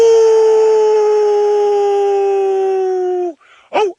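A person imitates a wolf howl during an early-morning safari drive in Nkuhuma, a single long sustained tone slowly falling in pitch for over three seconds, then breaking off into a brief yelp and a short rising cry.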